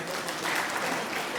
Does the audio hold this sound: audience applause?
yes